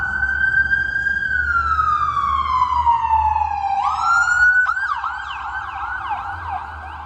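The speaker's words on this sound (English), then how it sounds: "Let the ambulance go by." An ambulance siren wails loud and close, its pitch sliding slowly down as the vehicle passes, then switching to a rapid yelp pattern as it continues by over steady traffic rumble.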